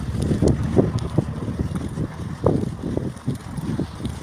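Gusty wind buffets the microphone in low rumbling bursts, loud and close, with no voices.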